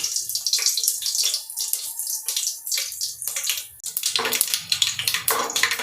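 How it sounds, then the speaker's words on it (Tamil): Vadagam drops into hot oil for a fish curry and fries with a loud, dense crackling sizzle in uneven bursts, briefly easing before flaring up again, close and with no voices. "எண்ணெய் காஞ்சிருச்சு, நம்ம வடகத்தை ஆட் பண்ணிக்கலாம்."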